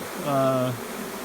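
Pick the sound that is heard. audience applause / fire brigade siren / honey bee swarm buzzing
honey bee swarm buzzing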